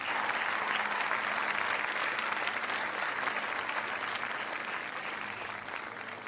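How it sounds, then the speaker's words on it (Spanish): Sustained, loud applause from a church congregation fills the space, many hands clapping together and tapering slightly toward the end, with no talking on top. "Dale un aplauso fuerte al Señor."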